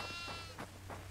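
A goat bleats in the horror video game Devour, several short harmonic bleats in quick succession over a steady low hum, fairly close and on its own.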